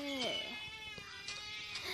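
Cat meowing in Minecraft, a few drawn-out, quiet mews rising and falling over a steady game background with faint clicks.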